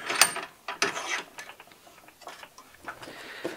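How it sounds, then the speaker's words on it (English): A bench vise is cranked tight on a rifle upper receiver for a 6.5 Grendel build, giving close ratcheting clicks and metallic ticks in irregular bursts that fade toward the end. "And you just place it in the vise horizontally. So we're going to place it in there, tighten her up."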